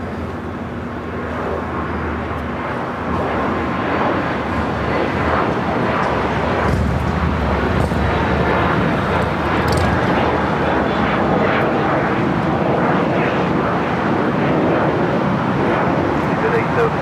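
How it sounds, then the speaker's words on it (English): United Boeing 787 Dreamliner arriving at LAX from London Heathrow, a broad, steady jet roar building and holding throughout, with people talking over it. "United Dreamliner. This is United 935 coming in from London Heathrow"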